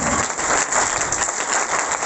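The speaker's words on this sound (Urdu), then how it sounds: "زوردار تالیاں شکر کی" A church congregation claps loudly in thanks during a worship service, producing a dense, steady patter of many hands that runs unbroken throughout.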